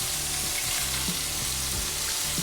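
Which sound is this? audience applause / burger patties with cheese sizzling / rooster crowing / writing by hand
burger patties with cheese sizzling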